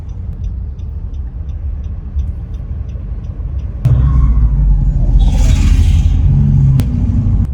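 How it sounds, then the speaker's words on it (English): Big 4x4 car on a Namibia road trip, heard from inside as a steady loud engine and road rumble that gets heavier partway through as it picks up speed, with a couple of sharp knocks and no talking. "Navneet is still trying to get a hang of driving this big car"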